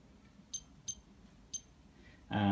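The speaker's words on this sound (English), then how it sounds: "The controller transmitter is actually beeping at the moment." A Cinestar drone controller transmitter beeps with no connection to its helicopter: three short, faint, high beeps at uneven intervals, then a sudden louder burst at the end.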